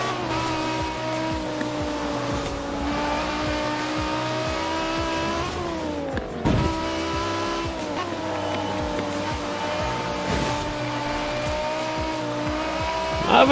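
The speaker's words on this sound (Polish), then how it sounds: "Jeśli chodzi o BMW, one tutaj strasznie driftujące są w tej grze." A BMW in the racing game Forza Horizon 4 drives with a loud continuous engine drone that rises and falls through gear changes and revs, with brief tire squeals, while someone speaks now and then.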